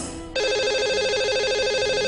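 A telephone ringing out as a radio show dials its lucky caller: a short tone, then a steady warbling electronic ring that fills the rest of the moment, loud and close, with no voices.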